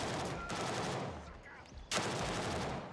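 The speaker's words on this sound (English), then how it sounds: "I don't know where this guy is shooting from." Video game gunfire at Fort Narith: dense, loud bursts of rapid shots fill the clip, broken by a brief lull before another sharp volley erupts, with the gunfire nearby and continuous.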